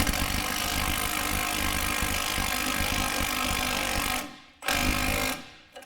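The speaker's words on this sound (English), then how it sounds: "use my 17 millimeter, and we are going to tighten this up" A 17 mm tool tightens a stabilizer link on a Toyota Yaris suspension, a loud, continuous mechanical rattle close by that cuts out briefly, resumes, then stops near the end.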